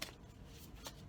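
Playing cards are riffled in a couple of quick, soft bursts, quiet and close.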